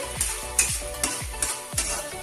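A spoon scrapes through a sizzling pan in regular strokes, about five rhythmic stirs over continuous frying, mixing cooked elephant yam and green leaves into the tempering for an Andhra curry.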